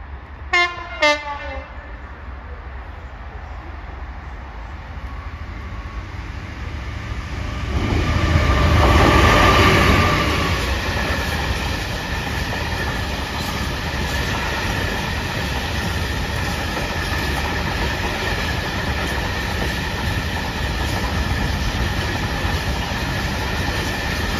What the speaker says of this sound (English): We now have a Class 66 freight train approaching platform number one.